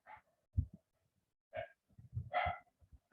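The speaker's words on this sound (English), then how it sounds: "Is the barking of the dog very irritating?" A dog barks several times at a distance in short separate bursts, with quiet gaps between them and no talking.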